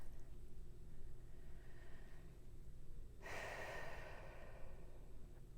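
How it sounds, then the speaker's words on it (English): A single slow breath, a quiet airy inhale followed by a louder, breathy exhale partway through, faint and close against a low background hum. "So let's go ahead and take a deep breath."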